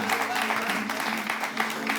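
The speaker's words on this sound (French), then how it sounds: "Applaudissez Menteur Ambulant" An audience applauds at a slam poetry event, a fairly faint, even wash of clapping lasting the whole two seconds with no break.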